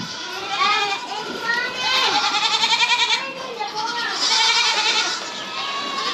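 Goats bleat on a farm during a total solar eclipse. Several overlapping wavering calls sound close and loud, with children's voices and chatter mixed in.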